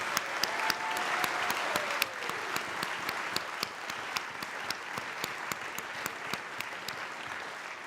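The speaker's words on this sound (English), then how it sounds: "let's all give a big round of applause for Janet and her great memory" Gala audience applause fills the room, a dense, continuous roar of many hands with individual sharp claps cutting through, held at an even level throughout and somewhat distant.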